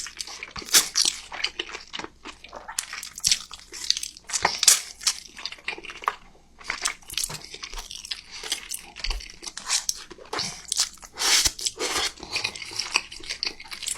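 Someone eats noodles in a mukbang, with close, wet chewing, slurping and crunchy bites coming in irregular bursts throughout, no voices.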